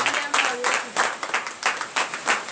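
Rhythmic group clapping in acclamation of the Lord during a morning prayer service, a series of distinct bursts in a steady beat with voices mixed in.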